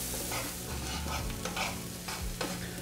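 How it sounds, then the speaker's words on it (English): Onions cooking in butter in a pan until soft give a close, steady sizzle with frequent stirring scrapes and clicks. "we're gonna add our onions. And we're gonna cook these until they soften"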